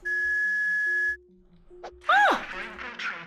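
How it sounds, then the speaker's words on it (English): A whistle tone plays in the video game Jazzpunk: a steady pure tone holds for about a second, a softer lower tone follows, then a quick pair of sliding chirps and a noisy burst. "there's a 26 hertz whistle inside"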